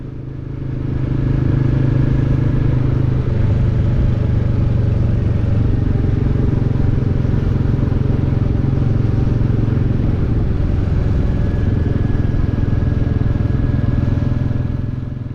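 A Royal Enfield Classic 350 single-cylinder motorcycle cruising along a road, its low steady engine thrum and exhaust beat loud and continuous, mixed with wind rush and no speech.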